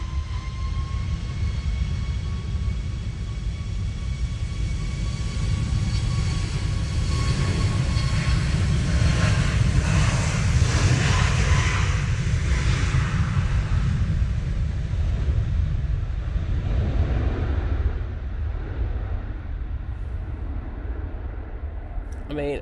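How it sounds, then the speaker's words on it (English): Ryanair Boeing 737 MAX 8 on its takeoff roll at Manchester Airport in wet, windy weather, a steady loud engine roar with whining tones and buffeting wind, thinning out toward the end, with a voice talking over it. "Ryanair 737 MAX 8. Now on the roll."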